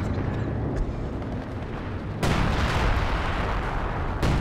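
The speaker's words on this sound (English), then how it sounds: "Got a bombing strike coming in though. Maybe major artillery." Artillery and bombing strike in Company of Heroes 2, a 4v4 World War II strategy battle: continuous dense rumbling barrage with a sharp loud impact surge midway and another burst near the end, no voices.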